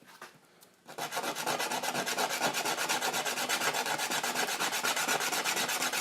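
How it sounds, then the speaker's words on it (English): A fidget spinner button is sanded down with a steady, fast back-and-forth rasp that starts after a short quiet moment and then runs loud and close without a break. "So we're going to sand this down"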